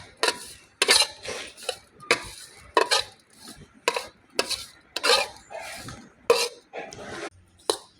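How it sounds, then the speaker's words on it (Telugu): Grated carrot being stirred with sugar in a pot, a spoon scraping and clinking against the metal in quick irregular strokes, close and fairly loud, no voices. "చీనీ వేసాక నీట్గా కలుపుకోవాలి"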